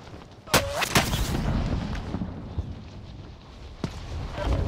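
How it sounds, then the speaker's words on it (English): Gunfire in Call of Duty Warzone on the Verdansk map: a few sharp, loud shots crack out near the start and again near the end, over a continuous rumbling game background with distant battle noise. "They're shooting at me."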